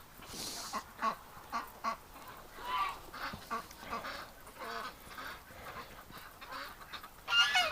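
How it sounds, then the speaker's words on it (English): Ducks and geese honk and quack in a flurry of repeated calls while a laid-back dog walks among them, the cries near and irregular with a louder burst at the end. "he just sort of walks around and the ducks freak"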